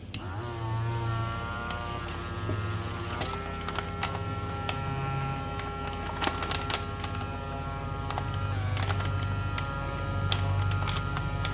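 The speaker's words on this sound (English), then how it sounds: "you got this vacuum thing to suck all the air out of it" Small handheld vacuum pump drawing air out of a zip-tied sealed bag, a steady motorized hum and buzz with clicks and rattles throughout, close and continuous with no talking.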